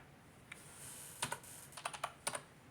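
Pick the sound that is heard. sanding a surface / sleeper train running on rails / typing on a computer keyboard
typing on a computer keyboard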